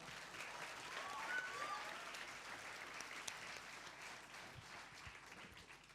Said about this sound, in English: Could we please have a huge round of applause for Ushika?